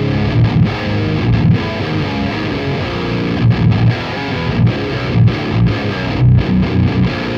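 A guitar runs dry through a Sonicake Matribox multi-effects unit on a distorted channel, playing a loud, steady run of chugging, saturated metal riffs with brief rhythmic gaps, no voices.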